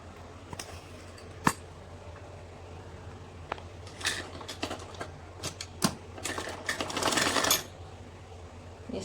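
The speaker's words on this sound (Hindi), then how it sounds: "चलिए मैं मशीन के ऊपर बताती हूँ कैसे इसमें जोड़ लगेगा" A sewing machine stitches the seams of an A-line suit in lightweight summer fabric, a steady close-up whir with scattered clicks and brief louder bursts as the fabric is guided, with no talk.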